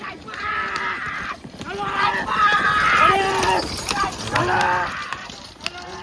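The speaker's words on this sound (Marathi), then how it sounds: "हे बघा गाईच गारे सुटले आता इकडून" Bullock carts are released at a village bullock cart race, hooves clattering in a rapid rhythm close by while a crowd shouts and someone talks loudly over the noise.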